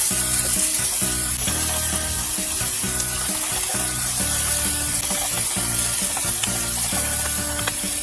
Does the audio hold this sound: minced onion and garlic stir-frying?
yes